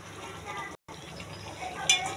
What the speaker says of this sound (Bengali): এখন এগুলোকে ভালোভাবে মিশিয়ে নেব চিকেনের সঙ্গে